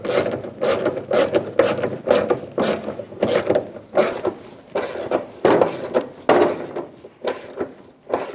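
A ratchet cranking in a bolt for the fuel tank straps on a 2000-2007 Ford Focus during electric fuel pump replacement, giving repeated close, rhythmic clicking strokes with short pauses between bursts.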